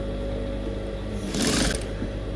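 A sewing machine runs briefly while stitching down the sleeve of a straight gown, a short whirring burst in the middle over steady room hum, with no talk.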